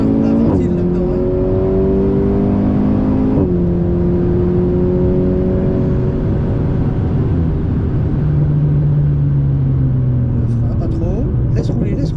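An Alpine sports car accelerating on the Bugatti circuit, its engine note rising in long sweeps and shifting pitch as the revs climb and fall, loud and close with a voice talking over it.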